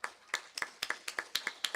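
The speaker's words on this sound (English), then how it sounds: "Everybody give Craig a round of applause." A small audience applauds Craig at a live country cafe gig, with sparse individual claps in an uneven rhythm that sound close and fairly quiet.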